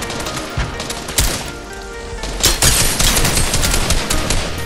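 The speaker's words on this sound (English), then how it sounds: "No, they're shooting at me." Loud rapid gunfire in the video game Fortnite during a team fight, bursts of automatic shots and single cracks piling up into a near-continuous fusillade.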